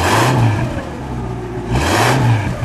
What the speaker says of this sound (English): Dennis, give it a rev for a second.